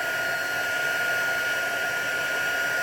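A heat tool blows hot air over an embossed card in a stamping craft project, a steady, even whooshing hiss held at constant loudness from start to finish, close to the microphone.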